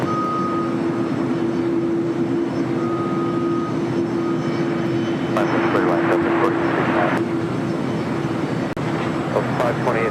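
Aircraft engine noise at LAX airport, a steady loud roar with a droning tone that swells partway through, while radio-style voices talk over it.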